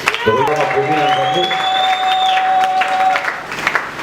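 A church congregation applauds and cheers during a Sunday service, a short burst of clapping mixed with raised voices and a sustained sung or shouted tone, fairly loud and close.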